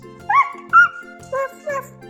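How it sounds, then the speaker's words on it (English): A farm animal toy plays an electronic dog sound, four short synthetic barks and yips at an even pace, close and clear, with a faint buzzing hum between them. "This one is a dog. The dog goes"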